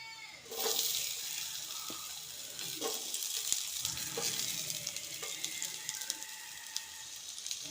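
Chopped onion hitting hot groundnut oil already crackling with mustard seeds and cumin, a steady close sizzle with occasional stirring scrapes and no talk.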